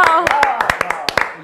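Audience clapping in sharp, irregular close hand claps, about a dozen quick loud strikes over a voice speaking throughout.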